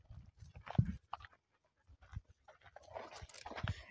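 Several dogs pant in quick, uneven breathy bursts near a lakeshore in Kuusamo, Finland, with short gaps between them and some louder snuffling close by.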